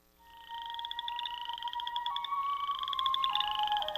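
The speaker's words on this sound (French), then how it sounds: "Les rainettes faux-grillons vivent au Canada, du Québec à la Colombie-Britannique et dans le Nord-Ouest." A chorus frog, a small Canadian amphibian, calls in a rapid, repeated series of rising, creaking pulses, close and clear over a quiet background, with no speech.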